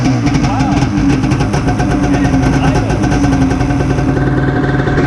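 Wave Raider jet ski engine being started with starter fluid, a loud, close, steady engine rumble that holds for about five seconds with a voice talking over it.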